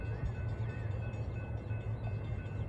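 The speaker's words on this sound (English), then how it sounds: "Here comes Amtrak 547, heading to its final destination of San Jose. Now this is it, here it comes now." An Amtrak 547 passenger train led by an SC-44 locomotive passes at Blacow Road with a steady low rumble and rolling wheel noise, loud and continuous throughout.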